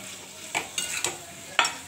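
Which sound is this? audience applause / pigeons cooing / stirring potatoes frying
stirring potatoes frying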